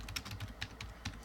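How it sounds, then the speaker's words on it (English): Keys on a computer keyboard are typed in an uneven run of close, crisp clicks, about a dozen within a second, with no talk over them. "I'm having a problem typing here"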